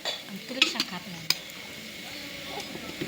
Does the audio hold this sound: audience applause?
no